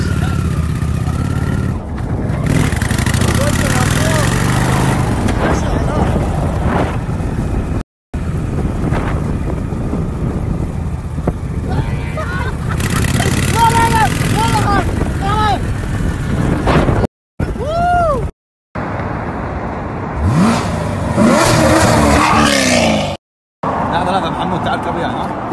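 Motorcycle engine revving under a first-time rider, buzzing in uneven bursts over heavy wind noise, with people talking and shouting around it and a few brief cuts to silence.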